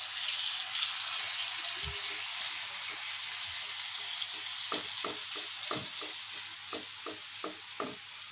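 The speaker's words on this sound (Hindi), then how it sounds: "अब हम इन दोनों को अच्छे से मिक्स कर लेंगे।" Schezwan sauce ingredients being mixed in a hot pan: constant sizzling with a series of quick scraping stirs building toward the end, close by and without speech.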